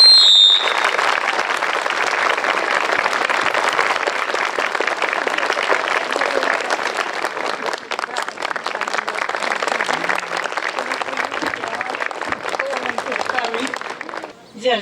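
A crowd gives strong, sustained applause at a school's 80th anniversary ceremony in Trush, dense clapping loud and close for about fourteen seconds before it cuts off.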